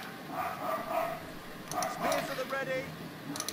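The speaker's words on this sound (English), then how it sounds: "Stupid dogs." Dogs barking in the medieval castle strategy game Stronghold 3, several yelping barks and whimpers in bursts mixed with game sounds, while someone talks over them.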